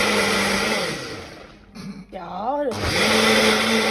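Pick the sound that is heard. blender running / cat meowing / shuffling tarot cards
blender running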